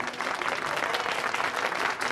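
A studio audience at a televised bed marathon contest breaks into loud, dense applause, a continuous wash of clapping with no speech over it.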